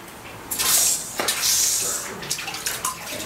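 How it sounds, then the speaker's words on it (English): A hot hand-forged iron nail is plunged into a water tank, giving bursts of bright hissing and sizzling that rise and fade over a few seconds, close and moderately loud. "Should we drop in the water tank for a moment and hear it hiss?"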